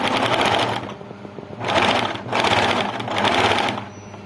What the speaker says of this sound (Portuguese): nós vamos entrar aqui para costurar uma parte mais grossinha, né? Porque são 4 camadas